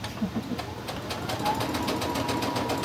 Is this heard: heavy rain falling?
no